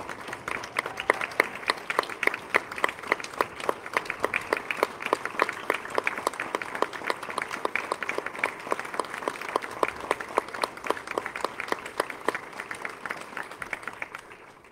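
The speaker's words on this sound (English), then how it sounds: "just give them a round of applause?" A church congregation at a worship service applauds in a steady, lively round of clapping that fades near the end.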